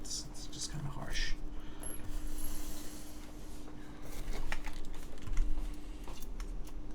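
Quiet, uneven tapping on a Plywrks Spyder TKL mechanical keyboard with a harsh bottom-out, clicking close by in irregular bursts while people talk softly over it.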